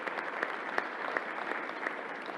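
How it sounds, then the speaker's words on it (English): Steady applause at a New York governor's news conference honoring the National Guard, a continuous wash of clapping from a gathered audience with a few sharper individual claps standing out, moderately loud and unbroken. "Let's give another round of applause to the National Guard and to Alan Steele and all the people,"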